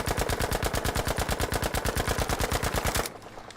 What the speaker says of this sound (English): Hitting just enough shots with a mag dump at this distance.